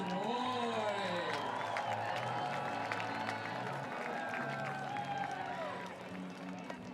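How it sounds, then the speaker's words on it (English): A stadium crowd cheers and applauds at a Portland Pickles versus Medford Rogues baseball game, a broad roar of clapping and whoops that slowly fades, with an announcer's voice and sustained tones over it. "Get loud for the Cloud Water Stadium, make some noise!"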